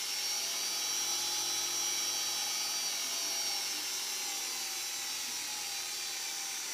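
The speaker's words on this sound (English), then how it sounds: "it gives you a complete speed control for your cylinder shaver. So we're running at full speed." A Dictaphone cylinder shaver runs at full speed on a speed control, giving a steady, high-pitched mechanical whine with a hissy motor hum, even and unbroken for several seconds, fairly faint with no voices.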